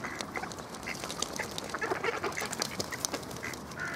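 Mallard ducks quack repeatedly at a bird park, many calls overlapping at a moderate distance over steady outdoor noise.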